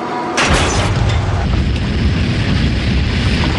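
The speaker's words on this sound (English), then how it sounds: "I heard a thud." A sudden heavy thud hits inside an aircraft, then a loud, steady roaring rumble continues inside, with dense low-frequency noise throughout.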